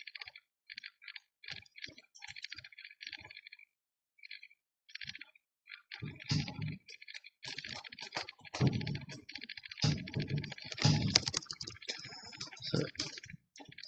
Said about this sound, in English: I'm gonna type this.